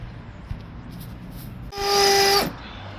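An electric drill bores into brickwork with one short burst of about three-quarters of a second, a loud whining grind that cuts in sharply and stops just as quickly, set against quiet background noise.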